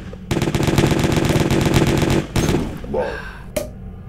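Rapid automatic gunfire from the video game Jazzpunk, a dense, loud burst of shots lasting about two seconds, followed by a short second volley, a trailing effect and one final sharp shot.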